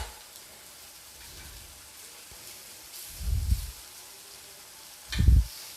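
Taro (arbi) pieces frying in a pan give a soft, steady sizzle close by, broken by two brief low thumps as pieces are turned, with no talk over it.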